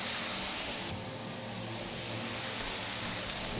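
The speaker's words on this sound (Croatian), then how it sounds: "A u drugu tavu stavit ćemo ove otvorene repove škampi." Opened prawn tails sizzle in a hot pan of olive oil, a steady broadband hiss that drops slightly after the first second and then holds evenly, close and alone with no talking.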